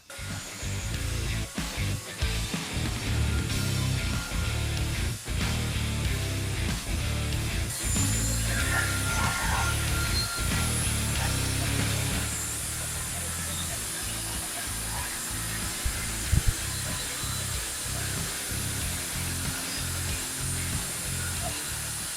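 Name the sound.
circular saw cutting with dust extractor attached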